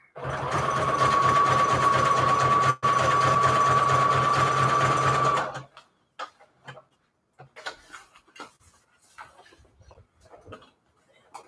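A sewing machine runs fast and steady, stitching through a patchwork junk journal cover, with one very brief pause. The motor then stops, leaving quiet handling noises and faint rustles.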